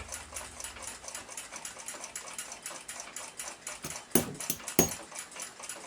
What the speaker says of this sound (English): One of the support posts on the front plate is loose. No problem, I'll snug it up on the staking tool.